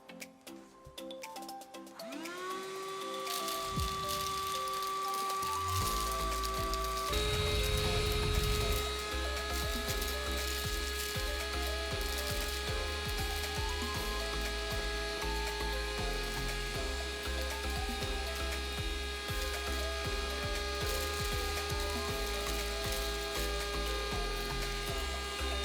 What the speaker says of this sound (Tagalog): Susubukan natin gamitin itong vacuum habang nag-charge.